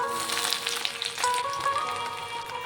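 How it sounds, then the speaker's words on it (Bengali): Oil sizzles and crackles steadily as chopped ginger and garlic fry in a pan, with a brief stir partway through. "আদা রসুনটাকে একটু ভেজে নেব।"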